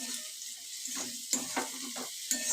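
Fried bhola fish is stirred in a pan with salt and turmeric, a soft steady sizzle broken by a few rhythmic scraping strokes, close and fairly quiet.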